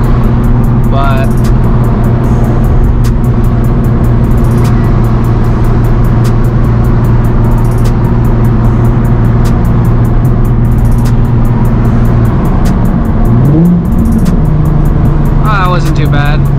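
A Nissan 350Z HR with a Tomei exhaust drones steadily from inside the cabin, then drops pitch on a downshift and pulls up again near the end, with loud constant road and engine noise throughout.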